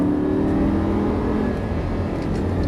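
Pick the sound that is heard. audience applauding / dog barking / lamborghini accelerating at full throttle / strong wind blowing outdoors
lamborghini accelerating at full throttle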